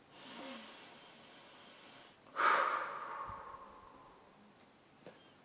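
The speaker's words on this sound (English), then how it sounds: "Collective deep breath." Several people take one slow deep breath together in a quiet room, a long soft breathy exhale swelling and fading, followed by a faint click.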